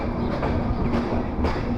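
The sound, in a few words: train leaving Kalukhali railway station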